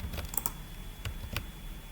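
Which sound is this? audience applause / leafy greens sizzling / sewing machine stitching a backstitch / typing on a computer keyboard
typing on a computer keyboard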